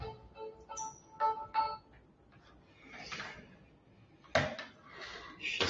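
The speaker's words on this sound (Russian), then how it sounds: "кто-то звонит." A phone rings with an incoming call during a lecture on Maya history: short tonal ringtone bursts in the first two seconds, followed by someone speaking quietly over room noise.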